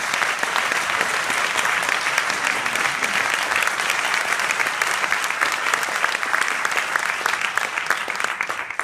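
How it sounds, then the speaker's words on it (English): A crowd applauds the author at an NYU event presenting "The Italian Americans," a sustained, even round of clapping, loud and close, with no talk over it. "Let's give her a round of applause."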